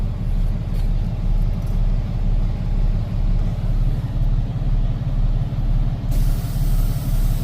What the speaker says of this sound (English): For brake response test, I have to do the 4 brake applications.